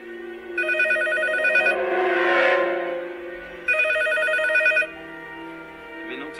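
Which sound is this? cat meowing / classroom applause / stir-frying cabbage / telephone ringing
telephone ringing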